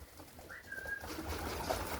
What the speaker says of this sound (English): So there's 36 pigeons in there